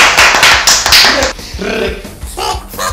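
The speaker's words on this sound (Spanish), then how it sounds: "¡Un aplauso a todos!" An audience applauds the semifinalist bands at a battle-of-the-bands show, loud, close clapping mixed with crowd noise and cheering, brief and energetic.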